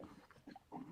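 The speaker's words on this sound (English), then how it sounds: "Is that your puppy?" A puppy with the zoomies pants and shuffles around indoors, producing quick, soft, breathy bursts that are faint and close.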